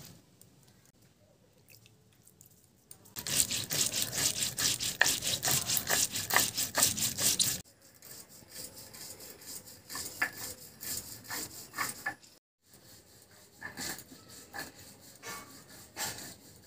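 White and black mustard seeds with two green chilies being ground into a paste, a steady scraping, rasping grind that starts after a quiet lead-in, loud and close for several seconds, then continues in softer intermittent bursts.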